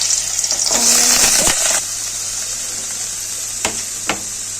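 Cut potatoes dropped into a pan of hot oil with a chili tempering give a loud hissing sizzle that swells for about a second, then settles to a quieter fry with a few sharp spatters.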